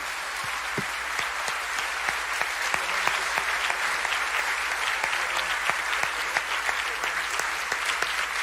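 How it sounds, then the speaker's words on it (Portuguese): A church congregation claps loudly in praise, producing a sustained, even wash of applause with individual sharp claps standing out at a fairly regular beat, heard from a moderate distance in a reverberant hall. "dá uma salva de palmas bem forte"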